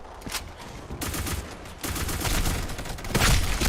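Gunfire in the online shooter Black Squad, several separate bursts of sharp rapid shots with brief gaps between them, growing louder and denser toward the end.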